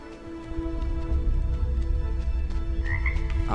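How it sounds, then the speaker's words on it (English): A frog croaks repeatedly in the video game RiMe, a low rhythmic croaking over a steady ambient hum, close and continuous, with a brief higher chirp near the end. "That frog is bugging me."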